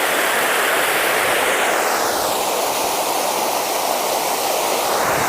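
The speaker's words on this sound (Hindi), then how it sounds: "ये नदी बहते हुए जा रही है, बहुत खूबसूरत लग रहा है ये नदी" A small river in Jharkhand flows by in a steady, continuous broadband rush, close and fairly loud, with no talk over it.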